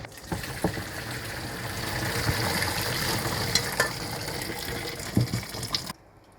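Water from boiled gluten-free pasta is drained, a continuous rushing splash with a few clanks and knocks from the pot, fairly quiet, then stopping abruptly at the end.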